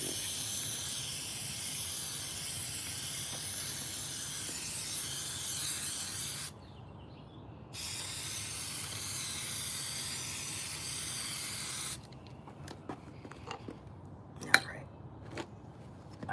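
An aerosol can sprays web-like adhesive for a leather and foam laptop case, loud steady hissing bursts broken by brief pauses, with a few light knocks near the end.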